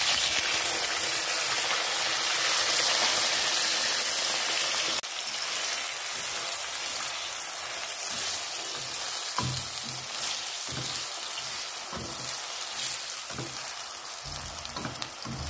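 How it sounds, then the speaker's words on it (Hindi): French fries frying in hot oil in a home kitchen, a dense steady sizzle and crackle with scattered sharp pops, close and continuous with no voices. "ऑयल गर्म हो गया, बाकी फ्राइज इसमें डालते हैं।"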